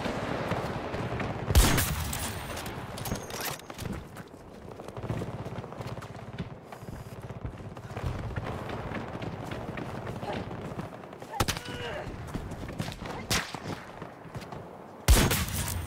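Sniper rifle fire in the Battlefield 2042 video game: a couple of loud, sharp shots crack out over scattered background gunfire and movement, with a voice talking throughout.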